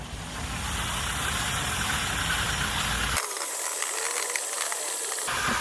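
Low-speed drill stirring Latapoxy 300 epoxy part A and part B together, a steady continuous mechanical whir with a grinding, ratcheting texture that stays loud and close throughout.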